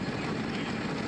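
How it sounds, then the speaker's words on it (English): Racing kart engines run close by at Shenington circuit, a continuous low droning rumble with a constant hum, steady and fairly loud through the short stretch. "If you can hear the engines in the background,"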